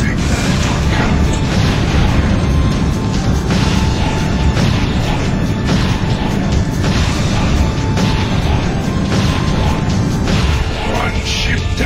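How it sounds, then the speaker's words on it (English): Cannon fire blasts enemy ships in the Shadow the Hedgehog video game, a dense, continuous roar of booming explosions and crashing impacts with game voices and noise layered over it. "Use our cannons and blow his ships out of the sky."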